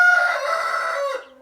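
A rooster of an imported German breed gives a single loud, close crow that holds steady for about a second before trailing off, heard alone with no talking.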